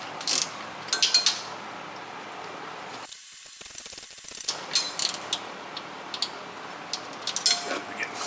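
A regular wrench works a bolt on the steering gear of a 2013 Chevrolet Malibu: scattered metallic ticks and clicks from short turns, close up, with a brief quieter stretch partway through.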